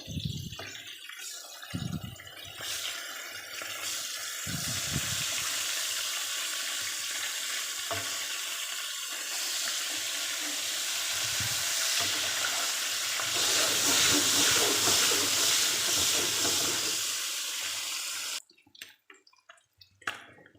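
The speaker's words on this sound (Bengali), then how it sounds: "মাছগুলো ভাজি করা প্রায় শেষ আমি এখন উঠিয়ে নেবো" Pieces of sea fish fry in hot oil in a pan, giving a dense, continuous sizzle with small crackles and stirring sounds close by, stopping abruptly near the end.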